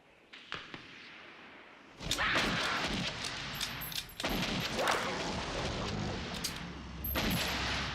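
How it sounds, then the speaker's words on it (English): Movie gunfire as characters shoot at a giant worm bursting through a basement wall: sharp shots and booming volleys crackle in uneven bursts over a rumbling, chaotic background, moderately loud. "these two just open rounds on the worm"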